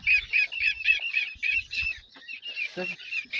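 Many small chicks and guinea fowl chicks peep in rapid, high-pitched chirps close by, a busy continuous chorus with a few louder calls mixed in.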